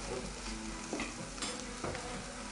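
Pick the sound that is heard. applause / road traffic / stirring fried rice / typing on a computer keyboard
stirring fried rice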